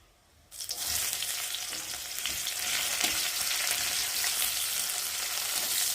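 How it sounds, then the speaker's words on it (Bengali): After a brief quiet moment, onion hits a hot pan with black cumin seeds and bursts into a loud, dense sizzle that holds steady and close, with faint spatula scrapes beneath. "পেঁয়াজটাকে ভালো করে ভেজে নেব।"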